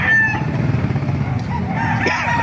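A rooster crows loudly and close by at a Calumpit, Bulacan chicken market, its long strained call running over a dense background of other clucking fowl and crowd noise.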